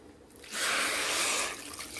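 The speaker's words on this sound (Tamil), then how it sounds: "ஒரு கிண்ணத்தில் ஆட் பண்ணிக்கின்னு கொஞ்சம் தண்ணி ஊற்றிக்கோங்க." Water poured into a bowl while making split mung dal payasam, a steady splashing pour of about a second with softer trickling before and after, close and alone.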